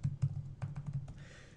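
Quick bursts of typing on a computer keyboard during a network switch lab, a dozen or so close, light key clicks in an uneven rhythm, quiet and with no talking.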